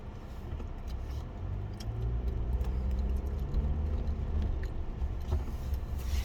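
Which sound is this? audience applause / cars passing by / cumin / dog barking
cars passing by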